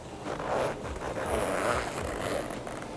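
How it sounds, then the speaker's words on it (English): A metal zipper runs along a rose gold LUXE wallet, giving two or three close, raspy pulls of dry zipping texture with brief pauses between them, with no talking. "Yeah, we love how high quality their zippers are."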